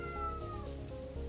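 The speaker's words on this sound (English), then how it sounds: "if you can hear my cat, I've got my door closed to this room and he is dying to get in here" A cat meows insistently from behind a closed door, its muffled cries stretching into a drawn-out, wailing call over a low room hum, fairly distant and heard alone.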